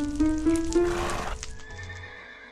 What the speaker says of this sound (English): And all the donkeys and the horses.